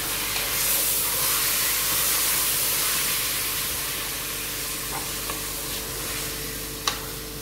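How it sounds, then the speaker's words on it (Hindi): Minced mutton sizzling in a hot pan, a dense steady hiss of frying filling the whole stretch, close and loud, with a few faint stirring ticks and one sharp clink near the end. "अभी बिस्मिल्लाहिर्रहमानिर्रहीम ये कीमा डाला है।"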